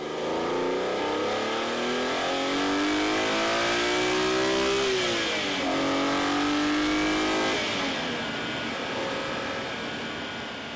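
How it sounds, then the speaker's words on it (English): A BMW Z4M Coupe with the S54 engine revs up in a smooth, steady climb, drops back sharply, then climbs again. A second dip follows as it settles toward idle. The engine sounds loud and fairly close, with no one talking. "Now that is the sound of an S54 engine in my BMW Z4M Coupe"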